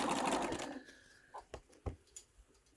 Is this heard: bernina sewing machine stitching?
yes